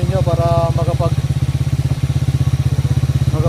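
A small motorcycle engine runs steadily at idle to charge an inverter and 12V battery during a power outage, a close, even putter with a fast regular pulse throughout, with voices talking over it.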